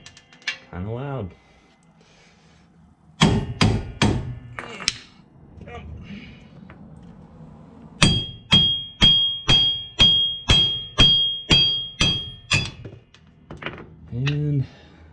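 Old wheel studs being hammered out of a car hub: sharp metallic strikes, first a quick burst of four, then a steady run of about ten ringing blows, close and loud, with a couple of softer clunks between.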